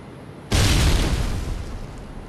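Frag grenade detonating in a first-person shooter match on the Terminal map, a single loud sudden boom with heavy low-end rumble that hits abruptly and decays slowly over about two seconds, with no voices.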